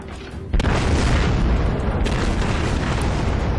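The main guns of the battleship Wyoming fire in World of Warships, one huge close boom that breaks into a long, loud roaring rumble filling the rest of the moment.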